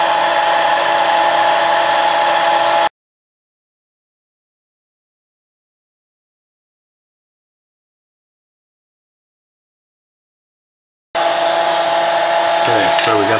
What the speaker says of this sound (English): just letting the blow dryer do the work